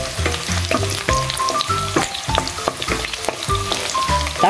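Onion frying in a pan for Bicol Express gives a crackling sizzle, with pulsing, tuneful background music playing over it throughout.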